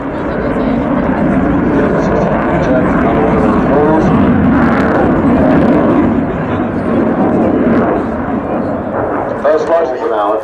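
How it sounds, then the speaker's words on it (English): A jet aircraft accelerates down the runway on afterburner at Farnborough Airshow 2010, a loud, continuous roar throughout, with a commentator's voice over the noise. "250 miles an hour in just a couple of seconds on the afterburner"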